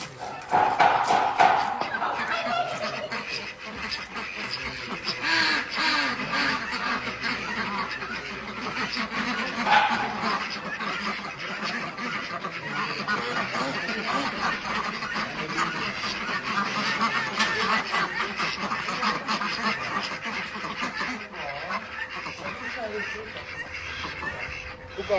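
Ducks quack and honk in a rural farmyard, scattered calls rising over steady background noise while people talk throughout.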